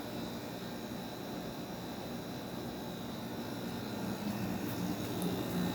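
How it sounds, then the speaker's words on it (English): A 7.5K Fedders AirTemp casement air conditioner runs with its rotary compressor and fan on low speed, giving a steady, even broadband hum with faint tonal whine, moderately quiet and unchanging, with no speech. "Has that nice rotary compressor sound that these units, a lot of these 90s and 2000s air conditioners have."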